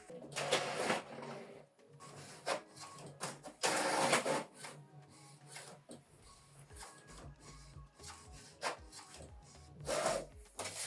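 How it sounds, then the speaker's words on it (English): Brother MFC J5740DW inkjet printer printing a double-sided document, irregular bursts of mechanical whirring and paper-feed rubbing separated by short pauses, close and clear with no talk. "This is the document we printed out, double-sided."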